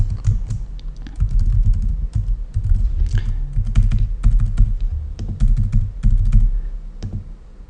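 Rapid, steady typing on a computer keyboard, close and loud, with short pauses between bursts of keystrokes and no voices.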